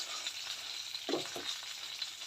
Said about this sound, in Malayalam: ഇതൊക്കെ എണ്ണയിലൊന്ന് നന്നായിട്ട് ഫ്രൈ ആവണം അപ്പോൾ നമ്മളൊന്ന് നന്നായി ഇളക്കി കൊടുക്കാം